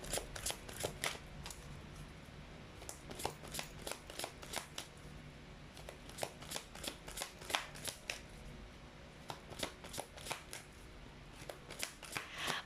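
A deck of cards is shuffled again and again, quiet close riffles and snaps in quick bursts with brief pauses between them.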